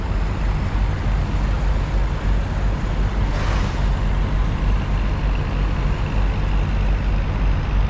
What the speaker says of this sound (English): it's the generator on the back of this guy's truck